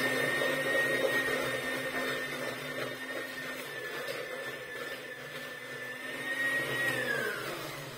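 Electric hand mixer whipping butter with fine caster sugar for a walnut babka, a steady continuous whine and whir that holds evenly throughout, close and fairly loud, with no talk over it.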